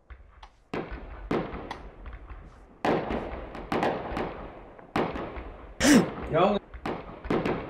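Gunfire in the physics puzzle game Human: Fall Flat: a string of sharp, punchy bangs and thumps in irregular bursts, some close and loud, heard alongside excited talk from players.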